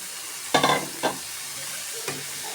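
Cauliflower stalks being stirred in a frying pan: steady sizzling throughout, broken by a few close scraping stirs.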